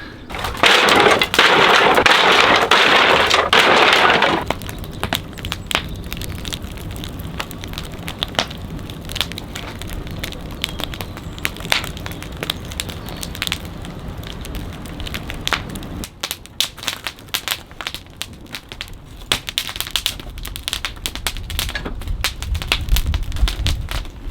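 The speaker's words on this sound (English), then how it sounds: "There's quite a bit of cardboard here, and it's all pretty dry, so I think it should burn quite easily" Dry cardboard burning on a small outdoor bonfire crackles and snaps in irregular sharp pops, with a louder rushing burst at the start and steady close crackling after, no talking.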